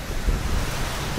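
Sea waves beside moored yachts at Avalon, Australia, a steady low wash of surf mixed with wind rumble on the microphone, no voices.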